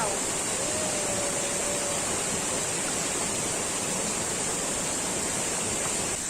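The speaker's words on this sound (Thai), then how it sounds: "ก็เหมือนน้ำตกธรรมดาทั่วไป แต่ว่าอันนี้น่าจะมีหลายชั้นนะ" Multi-tiered waterfall in cool northern Thailand, a constant broadband rush of falling water, loud and steady without a break, with a brief faint voice early on.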